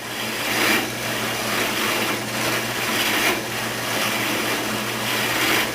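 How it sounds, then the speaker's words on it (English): A power tool with an end mill cuts a mortise into a wooden leg stretcher for a veneered sideboard, giving a steady, loud whine with a rhythmic swell roughly every second as the cutter travels back and forth. "I'll go back and forth until I've cut the mortise."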